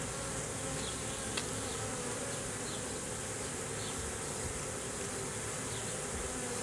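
Honey bees swarm in a dense, continuous buzzing drone, loud and close, with individual bees whining past now and then, with no voices.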